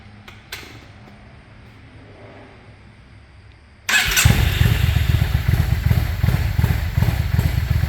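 A Yamaha V-Star 650 motorcycle fitted with a KJS single carburetor cranks and fires up, running without choke into a loud, close, throbbing rumble after a few seconds of quiet clicking.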